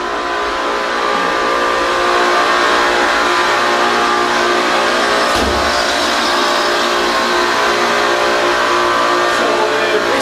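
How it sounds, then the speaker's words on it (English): A geothermal heating system in a resort plant room at Big White, Canada, runs with a steady, loud mechanical roar and hum that fills the space without letup, a faint voice briefly heard partway through. "it's going to be some noise in here because it's a very geothermal is very noisy"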